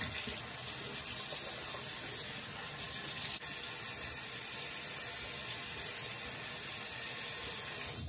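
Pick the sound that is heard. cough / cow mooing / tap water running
tap water running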